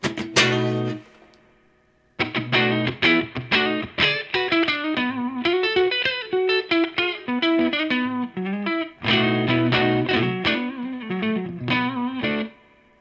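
A PRS electric guitar on its neck pickup plays a bluesy phrase with slight overdrive breakup, a struck chord ringing out, a short pause, then a run of clear plucked notes and chords.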